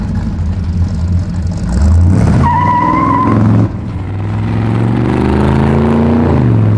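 A loud, throaty V8 exhaust from a hot-rodded 1955 Chevrolet 3100 pickup rumbling and revving up close, the engine note rising and falling with a brief whine over the deep roar.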